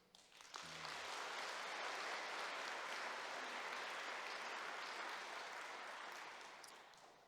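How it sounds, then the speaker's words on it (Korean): A church congregation breaks into sustained applause during a Sunday service, a dense even roar of many hands that swells in, holds steady and fades toward the end. "우리 찬양하신 우리 두 권사님에게 큰 박수"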